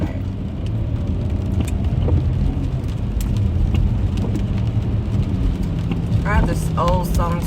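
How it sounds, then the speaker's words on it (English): Rain drums on a moving car during a drive, a steady broadband wash over low road and engine rumble, with a few brief higher tones near the end. "But it's raining again."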